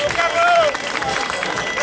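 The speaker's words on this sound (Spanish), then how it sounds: "El aplauso para ellos." Applause and crowd noise for marathon veterans at an awards ceremony, a dense, loud wash of clapping and chatter with a high whistle near the start.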